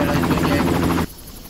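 A helicopter in the video game Far Cry sounds loud and close, with a heavy rhythmic rotor chop that cuts off abruptly near the end.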